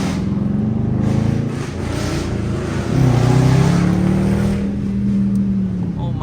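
A completely stock, hoodless 2019 Dodge Charger R/T with the 5.7-liter Hemi V8 drives through city streets, its engine droning loudly and steadily, then revving higher and holding a strong, rising growl.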